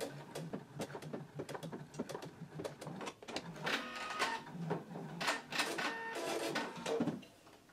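Sewing machine stitching a buttonhole on a pants flap: a close, loud run of rapid mechanical needle chatter, uneven in pace, briefly pausing near the middle and stopping at the end, with no talk.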